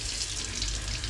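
Tap water pours steadily into a tank, giving a constant, close, fairly loud rushing hiss with no pauses and no voices.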